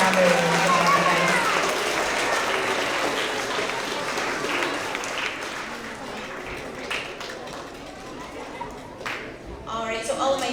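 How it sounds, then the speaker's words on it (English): Applause from students and staff at a winter award assembly for 3rd to 5th grade school students, a sustained wash of clapping mixed with crowd noise and chatter, fading gradually toward the end. "let's give them another round of applause for all of our skilled collaborators"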